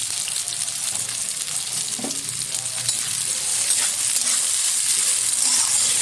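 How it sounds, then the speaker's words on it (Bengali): Chopped onions hit hot oil for a mutton korma, giving a steady, loud, close sizzle with crackling hiss that runs unbroken throughout and no talk. "যেহেতু তেলটা গরম হয়ে গেছে, দিয়ে দিচ্ছি কুচিয়ে রাখা পেঁয়াজ"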